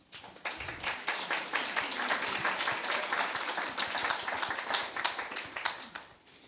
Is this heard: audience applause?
yes